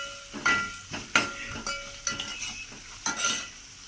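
Turmeric being stirred into a masala dal rice mix in a pan, a rhythmic series of spoon strokes and scrapes against the metal over a faint sizzle, close and clear.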